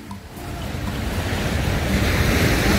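Surf rolls in at Auroville beach in Pondicherry, a steady rushing roar that swells slightly, with wind buffeting the microphone and no voices.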